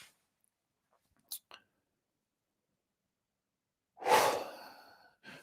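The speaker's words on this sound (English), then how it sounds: "Take a deep breath in." Deep breath drawn in during a calm guided meditation, a single broad airy inhale rising loudly near the end after near silence, preceded by a couple of faint clicks.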